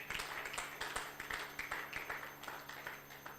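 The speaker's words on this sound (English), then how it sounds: "Let's give him another round of applause." Applause from an audience at a medical practitioners' meeting, a soft, somewhat distant patter of scattered hand claps with a few sharper individual claps standing out, alone without talk.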